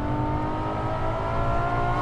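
Ferrari LaFerrari V12 engine accelerating hard on an open road, a loud, continuous, rich roar with steady harmonic drone close by, filling the whole stretch without talk.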